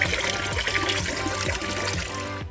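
Coolant drains from a car cooling system during a flush on a VY Calais, a continuous close trickling and splashing of liquid that cuts off at the end.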